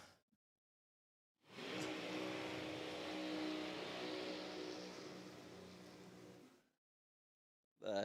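A drag racing car makes a solo pass down the rocket lane at a New South Wales championship drag meet in Sydney, its engine roaring loud and steady for about five seconds before cutting off, with a brief burst of noise at the very end.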